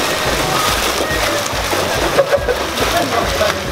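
Water splashes and sloshes close by as someone swims backward in the Yanayacu thermal pool, a dense, continuous churning with irregular slaps and spatters.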